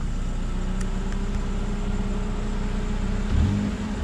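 Chevrolet Prisma 1.4 car driving on a rough off-road track, a steady close engine drone with road rumble, then a brief rev and gear shift near the end.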